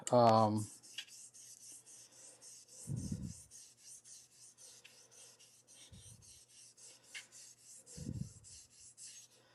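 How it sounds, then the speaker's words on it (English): Straight razors, a U-No and a Max Hessmer, being honed on a stone with pressure moved along the blade, giving faint rasping strokes spaced a few seconds apart in a quiet room, with a brief louder scrape at the start. "I'm doing the knife sharpening thing by moving pressure along the blade with my left hand."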